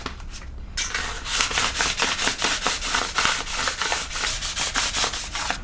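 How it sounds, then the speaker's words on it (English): Wet sanding a new Shimano 203 mm mountain bike brake rotor with 1500 grit sandpaper: a close, steady back-and-forth rasping scrub in quick, regular strokes after a brief quiet start, with no talking. "I am gonna wet sand it just to help out the brake pad"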